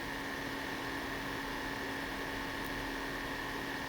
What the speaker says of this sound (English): You may be able to hear the fan running right now.